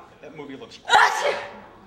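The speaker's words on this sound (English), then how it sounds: "You sneeze all over me." A person sneezes once, loud and close, right after a line of casual talk in a comedy skit, with a bright burst of breath that trails off quickly.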